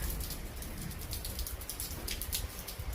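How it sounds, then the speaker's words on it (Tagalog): Steady rain falls outdoors in Korea, a dense, even wash of patter and drops with no letup, moderately loud and uninterrupted. "Yan ang ulan."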